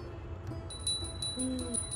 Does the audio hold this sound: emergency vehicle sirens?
no